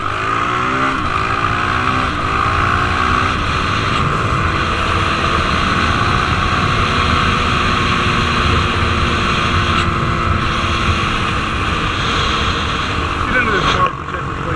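A 2019 Honda CRF450L dual-sport motorcycle engine runs while riding, a steady, fairly loud drone with shifting pitch and rushing wind noise that holds throughout and dips briefly near the end.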